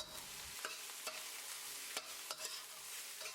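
Rice stir-fried with half-cooked egg in a pan for pineapple fried rice, a soft sizzle under repeated scraping and tossing strokes of a spatula at an irregular rhythm, close and fairly quiet.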